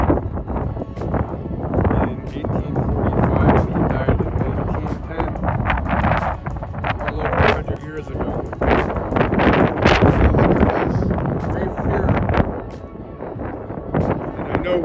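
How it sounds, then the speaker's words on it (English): Strong wind blows across an outdoor cemetery, buffeting the microphone with loud, gusty low rumble and rustle that persists the whole time while people talk over it. "We got the wind going, so we'll try to speak up."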